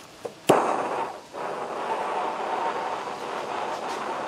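A gas torch lit inside a pipe for aluminum casting: a sharp pop of ignition, then a steady, rushing roar of burning gas that carries on to the end.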